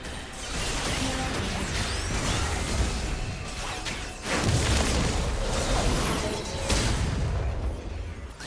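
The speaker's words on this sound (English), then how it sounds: "Blue team's turret has been destroyed." A turret being destroyed in the League of Legends video game, a loud rumbling crash with whooshing debris and mechanical clatter, swelling again midway and fading as it ends.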